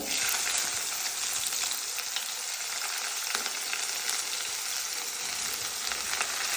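Onions and green chillies fry in a hot pan, giving a steady, close sizzle that runs unbroken and fairly loud, with a few faint stirring scrapes and no talking.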